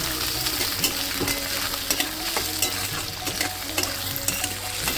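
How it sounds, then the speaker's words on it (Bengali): Green peas sizzle steadily in a hot pan, with repeated scraping strokes of a spatula stirring them throughout. "মটরশুটি দিয়ে আমি ভালো করে ভেজবো ওটা"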